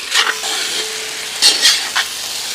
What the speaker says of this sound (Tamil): இப்போ எல்லாத்தையும் சேர்த்து நல்லா கிளறி கொடுங்க.